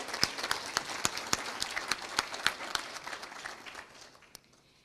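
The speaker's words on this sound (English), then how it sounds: "go ahead and give her a round of applause as well" Audience applause at an FFA banquet, a room full of steady clapping that holds for several seconds and then thins and fades toward the end.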